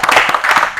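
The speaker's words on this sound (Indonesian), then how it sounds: "Tepuk tangan lu dong untuk presiden dia." A brief burst of clapping and applause for a presidential candidate rings out loudly and close, a short flurry of hand claps.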